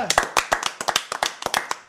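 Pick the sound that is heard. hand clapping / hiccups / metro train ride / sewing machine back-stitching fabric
hand clapping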